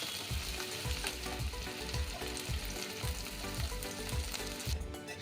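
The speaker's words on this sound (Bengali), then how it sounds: "কপিগুলো বেশ ভাজা হয়ে গেছে লাল লাল করে" Cauliflower florets fry in hot oil until browned, a dense close sizzle with a steady rhythmic pulse as the pan is stirred, with no voices.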